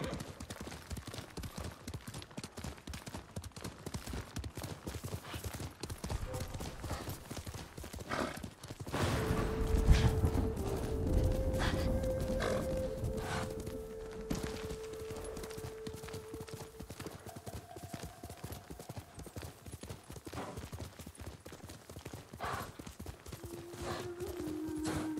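Rapid clip-clop of horse hooves galloping in the video game Ghost of Tsushima runs steadily throughout, with a brief louder swell midway and a few tonal game chimes layered over it.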